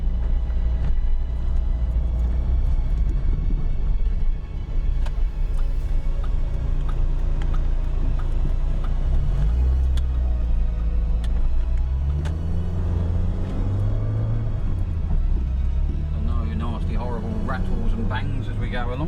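A Peugeot 306 pulls out onto a main road, its engine rumbling loudly up close with rising and falling revs as it accelerates, small interior ticks and rattles beneath, and voices talking over it.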